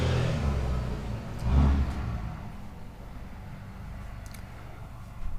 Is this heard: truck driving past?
yes